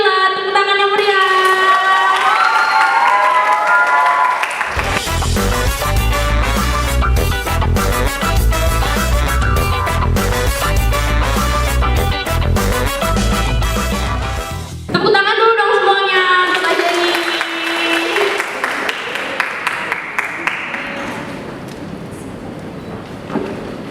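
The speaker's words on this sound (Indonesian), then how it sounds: "Tepuk tangan yang meriah" Cheering and applause from a talk-show audience welcome a guest star, a loud crowd swelling over music from the middle onward, with voices shouting above it at both ends.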